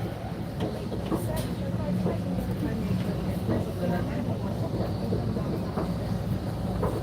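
An exo commuter train runs between Lucien-L'Allier and LaSalle stations, a steady low rumble of the rail car with faint rattles and knocks throughout, and people talk in the cabin.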